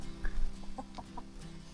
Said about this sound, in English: These are our Zambro chickens.